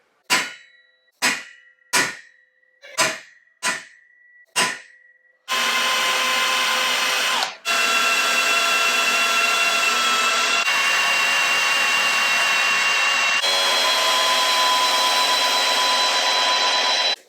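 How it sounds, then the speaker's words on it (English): A power drill bores bolt holes in steel rear bumper brackets for a Jeep Cherokee XJ, opening with about five short clanging metallic hits, then a loud, steady high-pitched whine of continuous drilling for the rest. "So now with all my holes drilled"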